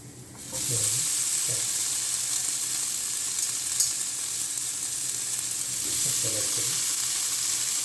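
Food fries in a pan with a steady close sizzle, starting after a brief quiet moment, with occasional soft scraping and stirring sounds throughout.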